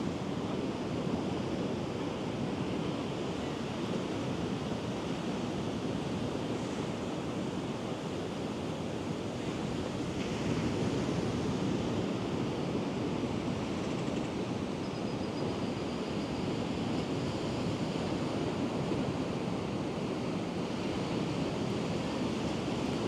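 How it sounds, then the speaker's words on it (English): Steady ocean surf washes continuously onto the shore at a sunrise beach, a dense, even roar with no break and no voices. "Listening into the waves and the birds."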